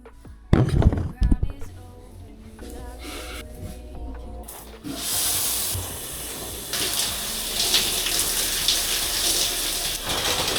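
Running water pours steadily in a home shower at bedtime, a broad constant hiss that starts after some handling noises and continues to the end.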